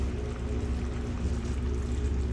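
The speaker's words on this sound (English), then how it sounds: "Sorry for the noise if you hear noise. That is my washing machine." A steady low mechanical rumble with a faint watery churn, like an appliance running close by, continuous with no talking.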